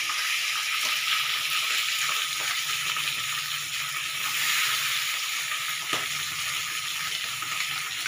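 Pabda fish fry in hot oil in a pan, making a constant, bright, crackling sizzle at close range with occasional soft knocks, and nobody speaks.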